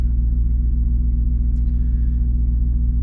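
A Dodge Charger R/T with an aftermarket exhaust and intake idles steadily, a deep, even rumble with a regular low pulse and no revving, heard close and alone.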